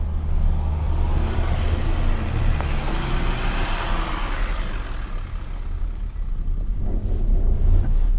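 A 2017 Volkswagen Amarok 3.0 V6 TDI rolls downhill off-road with automatic braking, a steady low engine and drivetrain rumble under continuous tyre and gravel noise, heard from inside the cabin, no talking.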